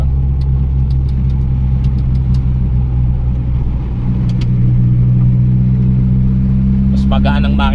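A Toyota Corolla engine idles steadily with the air conditioning switched off, a continuous low rumble running close and even throughout, with faint voices talking in the background.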